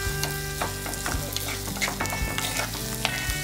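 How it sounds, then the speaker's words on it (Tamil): Onions sauté in a pan for a karuvadu kulambu, a dried fish curry, with a loud continuous sizzle and repeated scraping and knocking of a stirring utensil close by. "ஸோ வெங்காயம் ஓரளவு வதங்கிட்டுருக்கு, இன்னும் கொஞ்சம் வதக்கிக்கலாம்."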